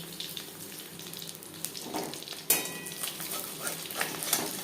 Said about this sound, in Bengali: তেল আমি গরম করে নিয়েছি ভাজবো লোটু মিডিয়াম ফ্লেমে